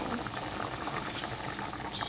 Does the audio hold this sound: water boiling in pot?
yes